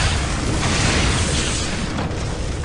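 Missile explosions in the side-scrolling action game Shank: a dense, continuous roar of blasts and rumbling debris fills the whole stretch, loud and sustained with no break and no voice on top.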